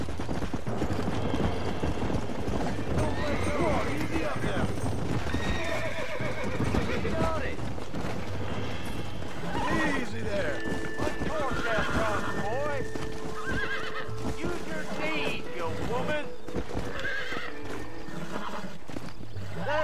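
A horse in Red Dead Redemption neighs and whinnies repeatedly over galloping hoofbeats and game sounds, loud and close throughout.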